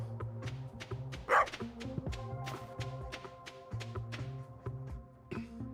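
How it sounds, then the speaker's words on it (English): A dog in the Stardew Valley farming game gives a series of short, close yips and barks over soft lo-fi background music, with one louder bright burst early on. "Let's pet the dog."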